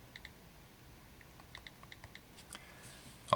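Faint, irregular keystrokes on a computer keyboard while entering a library catalogue search, a scattered run of light clicks with short pauses, alone in a quiet room.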